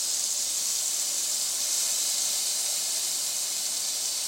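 Steak cooks on a Bella Pro Series 12 x 16 inch countertop smokeless electric indoor grill, giving a steady, even, close hiss of sizzling with no breaks or talk.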